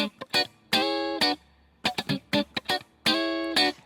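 Clean electric guitar playing short, choppy funk chords in a syncopated rhythm, each stab ringing briefly with a light reverb tail.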